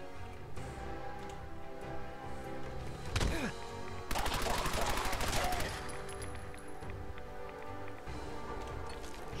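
Submachine gun fire in the video game Fallout 4, a loud burst of rapid shots lasting a couple of seconds mid-clip amid a busy background of game music and effects.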